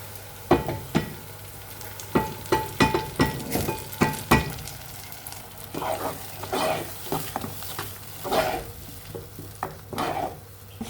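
Chopped onions and ground tomato frying in oil in a pot, stirred with a utensil that clinks and scrapes in bursts over a steady close sizzle, with no voices.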